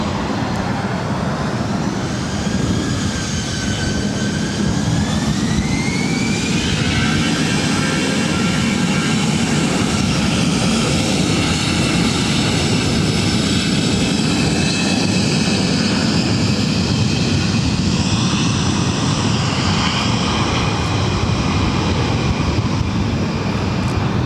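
An airliner on flight 1559 at LAX, a 26-year-old aircraft delivered in February 1998, takes off for San Francisco with a loud, steady jet engine roar that sustains throughout, its whining tones gently shifting.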